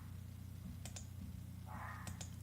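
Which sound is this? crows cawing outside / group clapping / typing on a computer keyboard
typing on a computer keyboard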